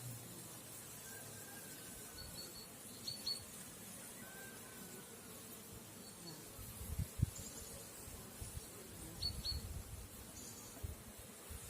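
A low, steady buzz of honeybees at a hive after acid mite treatment hums throughout, with a few louder passes drifting near around the middle, against faint background noise.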